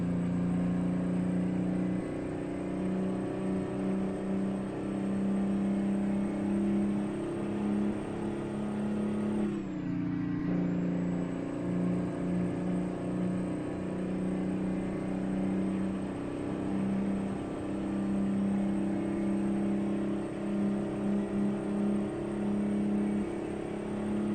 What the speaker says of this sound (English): You would definitely rev this over 2000 RPM in real life.